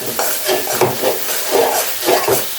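Spices sizzle in hot oil as a spoon stirs and scrapes the pan in a steady rhythm, close up, with no talking.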